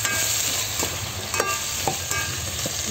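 Vegetables for chop suey being stirred in a frying pan, with a steady sizzle and occasional scrapes and knocks of the spoon, close and continuous, with no talking.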